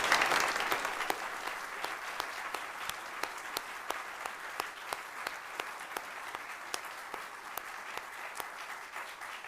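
An audience applauds at a 100th birthday celebration event in a university English department setting, steady sustained clapping from a crowd that slowly fades over several seconds with no one talking.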